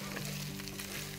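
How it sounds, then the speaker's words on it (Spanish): Meat frying in a pan, a steady close sizzle with crackling spatter and a faint hum underneath, continuous and without talk. "Mira, se está friendo la carne."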